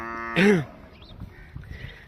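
A single short, close moo from a large Cholistani-Friesian cross dairy cow sounds out early, followed by quiet background rustling and faint distant sounds.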